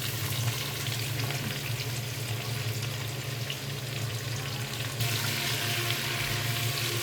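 Thinly sliced large onions fry in oil over a medium flame, giving off a steady, dense sizzle with a constant low hum beneath it.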